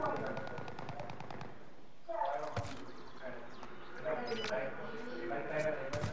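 Rapid bursts of automatic gunfire crackle through a Call of Duty: Modern Warfare match, coming in repeated volleys while men chat excitedly in Portuguese over the shooting.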